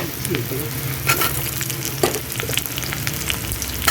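Cut potatoes sizzle and fry steadily in oil in a pan with onion and ground spice paste, a close, continuous crackle with occasional sharper pops throughout.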